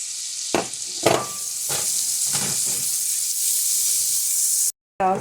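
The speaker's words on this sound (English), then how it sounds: "now we want to add in our pepper and our onions, and we're going to saute these up until they are softened" Orange pepper and onion sautéing in a pan for Cajun chicken lasagna, a steady close sizzle with a few scraping stirs, cutting out briefly near the end.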